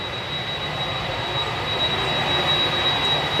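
Boeing 767 jet engines idling or taxiing at Manchester Airport, a steady broadband roar with a thin high whine, heard alone and fairly constant.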